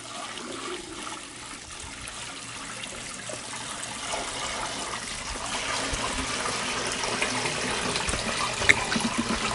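Steady rushing of tap water pouring, a continuous splashy stream that gradually grows louder and fuller.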